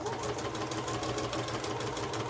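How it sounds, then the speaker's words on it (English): A sewing machine runs a row of stitching across fabric, a continuous close buzzing hum with a fast, even mechanical pulse and no talk. "So I'm going to do a row of stitching right across the top."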